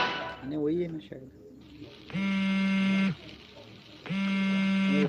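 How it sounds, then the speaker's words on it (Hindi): A phone rings in two loud electronic buzzing bursts about a second long, separated by a short pause, with brief speech just before. "फोन आ गया।"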